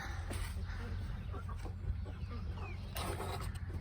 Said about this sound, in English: Now let your chicken friends out.